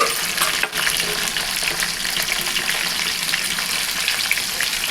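Tomato with green chillies and garlic frying in a pan of oil for a Telugu fish curry, a steady broadband sizzle with faint scraping stirs, close and continuous with no talk.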